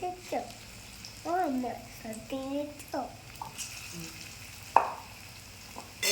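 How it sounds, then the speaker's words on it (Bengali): Sohna leaf pakoras fry in hot oil at lowered heat, giving a soft steady sizzle with occasional louder crackles, while a voice talks over it close by. "একটু জোরটা কমিয়ে দিয়ে আস্তে আস্তে ভাজবেন"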